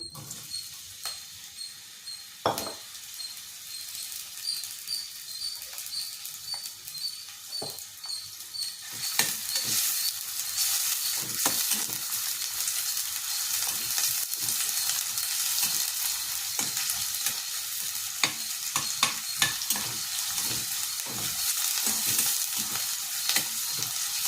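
Chopped onions fry in about three spoons of hot oil until browned for a beetroot and chickpea gravy, giving a steady close sizzle that grows louder after the first few seconds, with scattered stirring clicks and pops.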